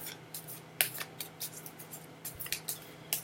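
Tarot cards being shuffled in short, crisp riffling bursts, soft and close, with a faint steady hum underneath and no talking.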